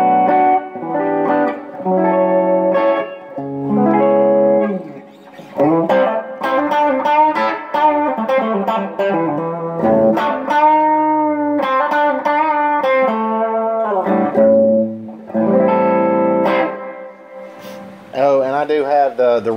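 Electric guitar, a Fender Telecaster through a Vox Bruno amp with digital plate reverb, plays chords and short melodic phrases with a spacious, shimmering reverb tail, loud and close, pausing briefly between passages.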